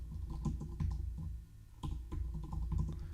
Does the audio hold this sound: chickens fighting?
no